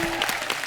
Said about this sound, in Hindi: भूत पुलिस की कास्ट के लिए जोरदार तालियां हो जाए यार।